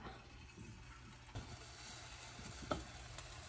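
Bananas frying in a pan give a soft, steady sizzle with faint stirring clicks, one brief louder clatter near the end, quiet and close with no talking.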